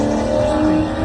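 Cars race and rev along an interstate, giving a steady, loud, close engine drone with sustained tonal whine and no voices.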